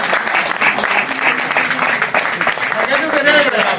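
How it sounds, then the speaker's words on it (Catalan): Applause from a small crowd at a book presentation, steady clapping throughout, with voices chattering underneath. "Gràcies, un aplaudiment"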